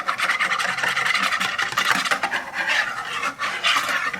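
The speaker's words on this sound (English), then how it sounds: "So I'm going to give it just a little bit more of a whisk here." A whisk scrapes rapidly against a bowl while a cocoa mixture for a chocolate cake is beaten, giving a continuous close, scratchy rasp with steady rhythmic strokes and no talking.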